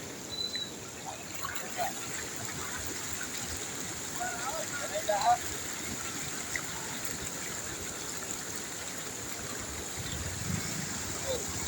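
Swollen streams and runoff channels overflowing after four days of nonstop rain give a steady, broad rushing wash of water that holds at an even level throughout, with faint scattered sounds on top.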